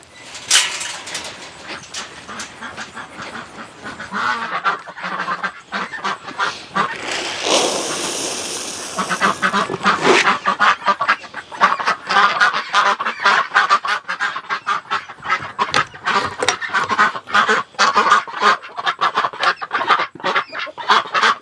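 A flock of ducks, silkies and chickens honks and clucks loudly and continuously, with a rushing burst of noise partway through as they come out of the coop in the morning, close by.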